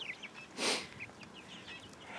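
Soft, scattered clucks and chirpy calls from chickens close by, with one brief louder rustling burst in the middle.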